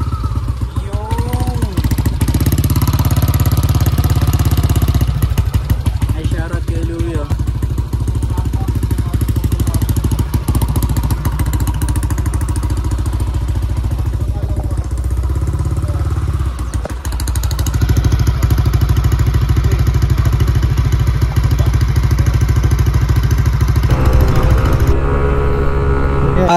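A modified scooter, a racer being built for an endurance challenge, runs its engine loud and close for the whole stretch. The revving rises and falls steadily, with mechanical rattle underneath and a shift to a higher, harsher tone near the end.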